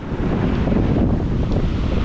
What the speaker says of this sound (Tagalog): So ngayon maabot na rito ang hampas ng alon dito sa ito pangpang.